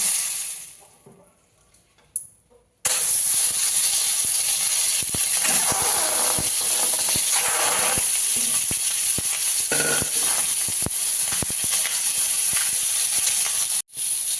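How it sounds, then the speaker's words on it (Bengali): After a quiet start, salted Patnai chicken eggs suddenly hit hot oil and burst into a loud, sustained sizzle and crackle that hisses steadily throughout. "তেলটা আমার গরম হয়ে গেছে, এবার একটু লবণ দিয়ে ডিমগুলো ভেজে নেব।"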